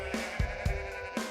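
Sheep bleat in an Italian village: several short, wavering calls rise over a steady background hum, with a few soft thumps between them, fairly close and moderately loud.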